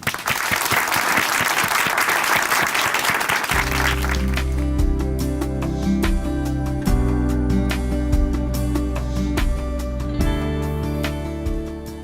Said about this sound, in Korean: 춘천한마음교회 이윤찬 형제님 박수로 모시겠습니다.